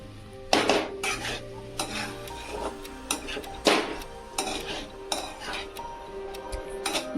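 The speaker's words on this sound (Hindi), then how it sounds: "बहुत हल्के हाथ से इसको मिक्स करेंगे ताकि सारे मसाले आपस में घुल जाए" Poha with peas and fresh coriander is gently mixed in a pan over a slow flame, with a utensil scraping and clinking against the metal at irregular intervals over a low sizzle.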